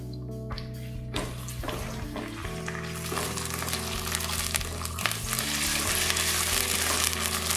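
Onion frying with ginger-garlic paste in a pan for a cauliflower chicken curry, a steady close sizzle that swells louder after a few stirring knocks early on, continuing alone throughout.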